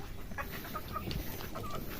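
Soft, scattered clucking from several chickens over a steady background hiss, fairly faint and distant.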